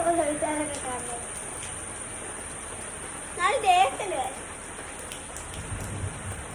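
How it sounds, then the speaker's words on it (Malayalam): Heavy rain pours in a steady, dense hiss of drops falling on surfaces, heard fairly softly, with brief voices talking over it. "നല്ല മഴ ഇടിയുണ്ട്"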